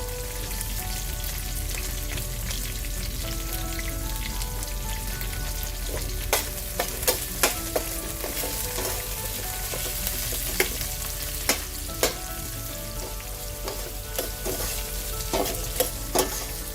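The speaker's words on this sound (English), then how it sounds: "So we're going to cook this down till our onions are soft" Sliced onions and chopped cilantro stalks fry with browned lentils for an okra sambar, producing a steady close sizzle with occasional sharp clicks of a spoon stirring against the pot.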